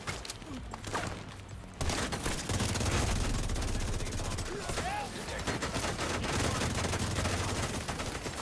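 Sustained gunfire in the video game The Division 2, dense bursts of automatic weapon fire crackling in rapid succession with a brief lull near the start, loud and continuous throughout.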